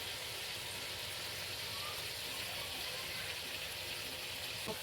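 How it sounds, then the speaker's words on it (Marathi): A steady stream of yakhni broth pouring and splashing into a pot of pulao, continuous and fairly loud, with no talking over it. "हे बघा आपण टाकतोय आता यखनीचं पाणी"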